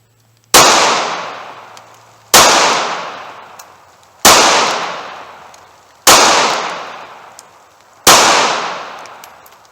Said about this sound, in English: Right now I got the 95 grain Fiocchi ammo, and I'm from 5 yards with the 380 pistol.